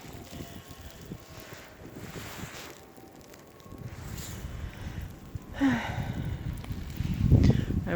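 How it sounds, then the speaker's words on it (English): Wind roars in a mid-April spring blizzard, gusting unevenly with blowing and drifting snow and buffeting the microphone, growing stronger and rougher toward the end. "Blowing and drifting snow."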